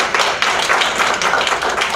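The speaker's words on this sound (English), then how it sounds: "I'd like us to give her a round of applause." A room at a school district board meeting breaks into dense, steady applause, with many hands clapping together loudly and continuously from start to finish.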